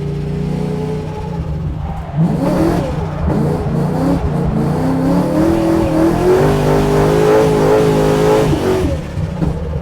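A C6 Corvette engine revs and accelerates on a track with rising pitch, loud and close, shifting through gears as it drives on steadily.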